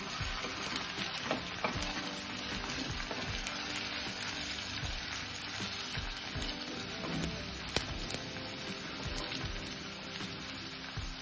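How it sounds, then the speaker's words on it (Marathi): Chopped bell pepper and onion sautéing in oil for masala Maggi produce a continuous close crackling sizzle, with occasional spoon scrapes and light knocks as the vegetables are tossed. "आता मी बारीक चिरलेली ढोबळी मिरची टाकून घेते यामध्ये। छान परतून घ्यायचं याला मस्त।"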